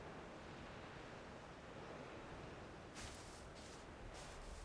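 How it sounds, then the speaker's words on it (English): A steady roaring gust of wind sweeps through a scene in Reverse: 1999, a continuous broad rushing noise with a few brief hissing surges toward the end, no voices. "The wind howls, and in it she hears the creaking of the old windmill."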